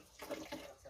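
Tap water running into a pressure washer, a soft steady splashing flow heard briefly and faintly at close range.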